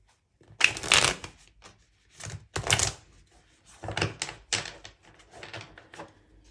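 Tarot cards are shuffled by hand in several quick riffling bursts separated by short pauses, close up and moderately loud, with no talking.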